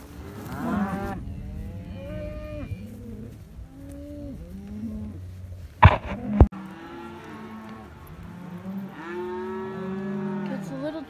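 Cattle on a drive in mild weather, several cows mooing in overlapping long low calls, fairly close, with a couple of sharp knocks midway through.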